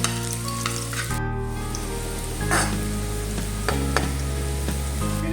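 Oil sizzles and fries steadily in a pan as breakfast of scrambled eggs is started, a continuous close crackling hiss with scattered louder pops over a low hum throughout.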